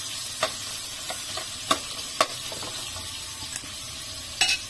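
Garlic and shallot stir-fry in hot oil with a close, continuous sizzle, broken by several sharp taps and scrapes of a spatula against the pan.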